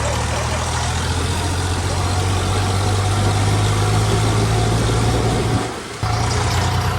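An Eicher tractor's diesel engine idles steadily on a farm with a low, constant rumble, close by and unbroken, briefly dipping near the end before resuming.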